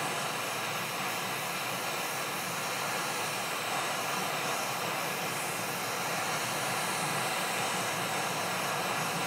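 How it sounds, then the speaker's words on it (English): A heat gun warms a PlayStation 5 circuit board near the HDMI encoder chip, a steady, continuous airy roar held close and even throughout, with no talking. "move the heat gun a little bit closer to the IC."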